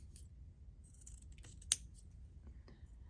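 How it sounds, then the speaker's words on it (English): A single sharp snip of scissors cutting off a thick piece of paper, heard close during a quiet crafting session with faint rustling around it. "I'm snipping that off because that is really thick."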